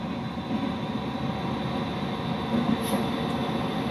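A locomotive in the Train Simulator game rolls past as a continuous low rumble and rail noise, steady and moderately loud, with a faint brief squeal near the end.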